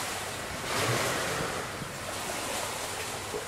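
Ocean surf rolls in steadily at a shore during a live coral reef session, a broad continuous wash of breaking waves mixed with wind buffeting the microphone, with no voices.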